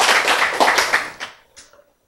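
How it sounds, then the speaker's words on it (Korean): Church congregation applauding after a sermon point, a short burst of loud close clapping that tapers off within about a second and a half into a few scattered claps. "박수!"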